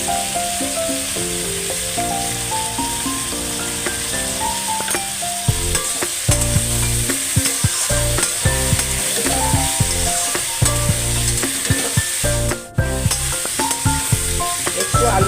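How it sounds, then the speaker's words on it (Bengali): Potatoes and onions with tomato and a little turmeric fry in a pan for a Bengali mutton liver dish, a steady close sizzle under stirring scrapes, with a tonal musical backing running throughout. "একটু আলুটা ভাজা ভাজা হোক।"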